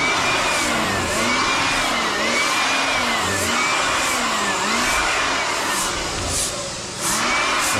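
A blower clears leftover debris off a concrete slab ahead of epoxy and waterproofing work, its motor whining loud and close in a steady drone with rhythmic rising and falling swells and a brief dip near the end.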